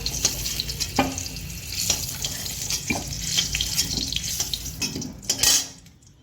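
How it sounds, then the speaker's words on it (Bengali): Potatoes frying in oil in a home kitchen, a steady background sizzle broken by repeated clinks and scrapes of a utensil against the pan, with a brief louder clatter near the end and no talking. "আমি সামান্য হালকা করার পর আলুগুলা ভেজে নিলাম"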